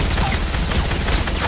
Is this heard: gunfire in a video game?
yes